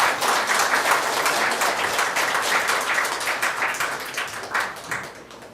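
A crowd at a party joint campaign rally in Wonju applauds warmly as a candidate is welcomed to the stage, with dense, continuous clapping throughout and a few sharper individual claps toward the end.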